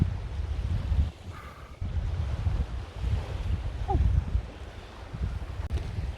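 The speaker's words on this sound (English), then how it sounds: "That sou'wester really picked up. It's blowing me sideways" Strong southwesterly wind buffets the microphone while kayaking, a heavy rumbling roar that surges and drops, with water sloshing beneath and a brief faint creak.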